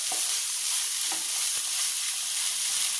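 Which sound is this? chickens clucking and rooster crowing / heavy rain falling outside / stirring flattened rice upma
stirring flattened rice upma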